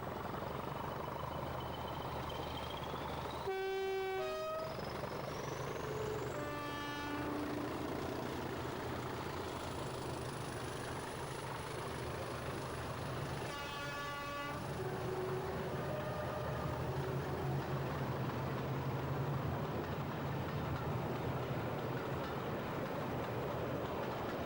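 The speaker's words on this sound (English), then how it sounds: "D8188 works behind green liveried 8031 on the 1994 East Lancs diesel" Preserved diesel locomotives D8188 and green-liveried 8031 work together at the 1994 East Lancs diesel gala. A steady engine drone rumbles throughout, broken by two clear horn blasts, one early and one later.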